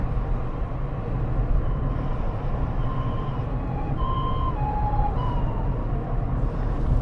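An ambulance siren passes through a small Japanese town near a large lake, its wailing tones rising and falling faintly over a steady low hum of traffic and ambient rumble.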